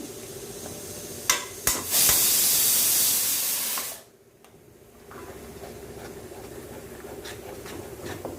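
Ghee poured into a hot pan while cooking sago halwa gives a loud burst of hissing sizzle after a couple of clinks, then settles into a quieter steady bubbling fry.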